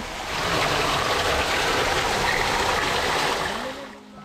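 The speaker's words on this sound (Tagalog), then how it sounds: "Kaya naman hindi matigil ang pag-ulan ng groundwater sa loob." Groundwater gushing into a flooded tunnel: a loud, steady, broadband rushing of water that holds for about three and a half seconds before tapering off, with no voices over it.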